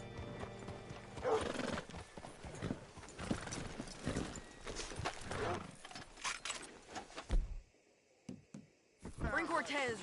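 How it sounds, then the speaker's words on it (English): Horse hooves clip-clop on the ground in Red Dead Redemption 2, a steady gait with a whinny and some mechanical rattling, while voices talk over much of it before a brief near-silent gap. "Hitch your horse up here."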